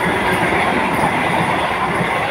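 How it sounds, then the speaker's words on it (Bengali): A Vande Bharat Express train departing Puri for Howrah rumbles past nearby, a loud continuous roar of wheels on rails with faint clatter throughout. "বন্দে ভারত বেরিয়ে যাচ্ছে পুরী থেকে"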